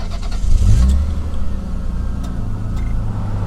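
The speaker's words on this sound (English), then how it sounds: "let me start the engine" A 1997 Toyota Mark II Qualis 2.5 V6 wagon engine cranks and catches with a short rising rev, then settles into a steady, close idle rumble.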